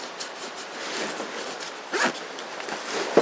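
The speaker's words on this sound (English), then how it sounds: "it's got a zipper here on the side, so you can either access it from the top" A zipper on the side pocket of a Kelty Coyote 105 liter backpack is pulled open in a few short, scratchy rasps, close and fairly loud.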